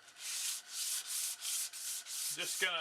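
Hand sanding with 320 grit sandpaper, about seven rhythmic back-and-forth strokes, close and even, followed by a brief quiet voice at the end.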